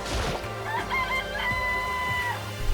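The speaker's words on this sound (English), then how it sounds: "Look at the chicken." A chicken in the video game Danganronpa clucks and crows loudly and close, a drawn-out call with trailing clucks over soft background music.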